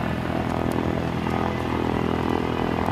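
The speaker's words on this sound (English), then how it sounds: "I should probably not be wasting film on that aircraft" Light aircraft engine at Aurora Municipal Airport, a steady broadband drone held at an even level throughout, mid-distance with no voices over it.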